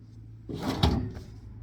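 A drawer in a cluttered storage box slides open or shut once, a short wooden rub and bump close to the mic, with a low steady hum underneath.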